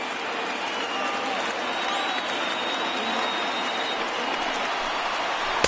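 Stadium crowd of over 39,000 on its feet in a PS4 baseball video game, a steady dense roar of cheering and applause that holds at an even level throughout.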